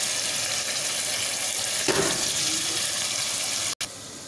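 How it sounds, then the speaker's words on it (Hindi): Chicken pieces browning with spices in a hot pan for chicken palak, a steady close sizzle and frying hiss running throughout with a brief break near the end. "चिकन 1-2 मिनट तक हम भूनेंगे, इसका कलर चेंज हो जाएगा चिकन का"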